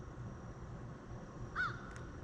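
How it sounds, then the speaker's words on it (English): A single crow gives one short caw overhead at a state campground at dawn, fairly faint above a steady outdoor background hiss. "Got our morning wake-up call from our first crow passing overhead here."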